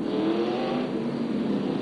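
A stock race car circles the track, its engine a steady loud roar with a broad, even drone and no pauses across the whole stretch.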